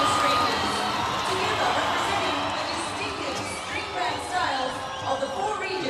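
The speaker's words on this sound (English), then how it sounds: "As you can hear from the crowd" A large crowd cheers, whoops and chatters at the XV Pacific Games opening ceremony in Port Moresby, Papua New Guinea, as a string band is welcomed. The roar is dense and sustained throughout, with scattered shouts rising above it.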